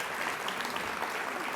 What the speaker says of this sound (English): And an applause for him too.